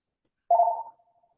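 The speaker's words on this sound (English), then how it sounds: "You hung up on it. Phone interruption." A single short electronic telephone tone, clean and isolated against silence, fading quickly.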